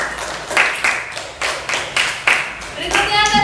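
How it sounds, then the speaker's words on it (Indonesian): Students in a classroom clap for a classmate named Devi, with several short bursts of claps coming in a loose rhythm while voices talk over them. The sound is close and moderately loud. "Kita beri tepuk tangan buat Devi"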